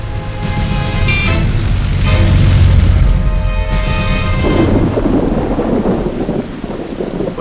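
A thunderstorm with rain, a deep rolling rumble of thunder over a steady hiss of rainfall, loud and close, with no one speaking.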